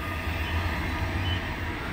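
An Amtrak Downeaster passenger train passes near Atkinson, New Hampshire, with a continuous loud low rumble and rail noise for the whole stretch.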